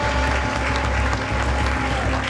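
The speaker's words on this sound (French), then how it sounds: "Le vieux père Goudé, applaudissez pour lui, s'il vous plaît." Dense applause from a crowd at a live celebration of Gao musicians, loud and steady for a couple of seconds with no break.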